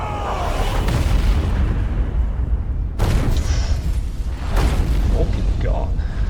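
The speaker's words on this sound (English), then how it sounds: "Shit! Cannon fire!" Heavy cannon fire in the video game Valkyria Chronicles 4, with a steady roar of booming blasts across the whole stretch and a sharp new impact near the middle, plus quieter bursts later on.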